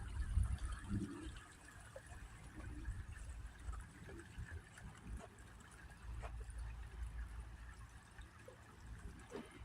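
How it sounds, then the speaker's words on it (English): A small brook near a footbridge in Falls Village on the Appalachian Trail, flowing into the Housatonic River, gives a steady, soft trickling and babbling wash of water that continues throughout at a moderate distance. "This is a brook that leads into the Housatonic River."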